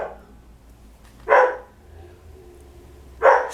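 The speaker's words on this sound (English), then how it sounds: "sorry about the dogs, but it can't be helped" Dogs barking indoors, two short sharp barks about two seconds apart against a quiet room background, moderately close and loud, with no talking.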